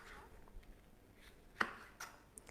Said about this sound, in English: It's just a matter of chopping up some ingredients.